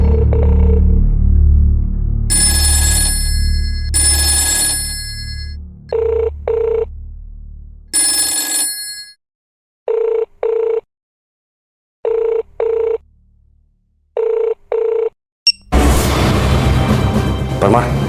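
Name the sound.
telephone ringing at a phone booth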